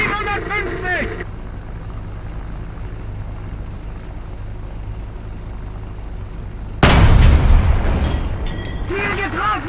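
A 38cm Sturmmörser heavy assault mortar in a tank video game fires and its shell strikes the target, a sudden loud booming blast breaking in after a stretch of low engine rumble, with voices heard before and after.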